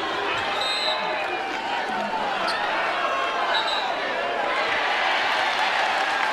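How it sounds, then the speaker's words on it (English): Women's college basketball arena crowd at a Virginia Tech vs Notre Dame game reacting to an officials' call, a steady dense roar and murmur of many voices filling the hall, with a faint whistle and sneaker squeaks in the mix. "The crowd makes it pretty clear which way our officials are pointing"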